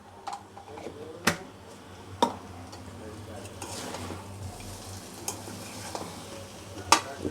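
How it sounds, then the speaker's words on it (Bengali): A ladle stirs a curry of green jackfruit and meat after garam masala is sprinkled over it, with scrapes and knocks against the pot and a few sharp clinks over a low sizzle. "ছিটিয়ে দিয়ে একটু মশলাটা সম্পূর্ণ এই অংশের মধ্যে মাখিয়ে নিলাম"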